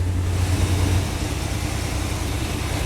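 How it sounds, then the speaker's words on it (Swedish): A Corvette engine runs at a raised cold-start idle on its automatic choke in winter, a steady low rumble with dense broadband hiss that eases slightly after the first second and then holds level. "den har ju automatchock så att den har lite högre tomgång en stund tills den blir varm"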